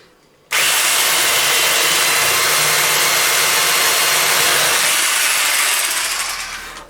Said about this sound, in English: drill some holes with rusty old blunt Forstner bit